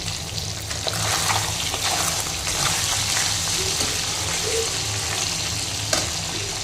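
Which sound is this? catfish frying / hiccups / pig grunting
catfish frying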